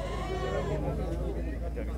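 Goats bleat at a market in Cupira, Pernambuco, with a wavering call close by over a murmur of talk and crowd noise.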